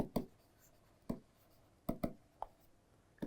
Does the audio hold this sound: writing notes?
yes